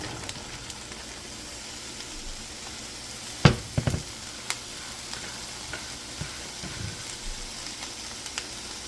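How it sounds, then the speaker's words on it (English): Vegetables hitting a hot pot for hibachi fried rice give a burst of sizzling and clatter, then settle into a steady, moderate frying hiss. "Now to the pot, we're going to add our vegetables."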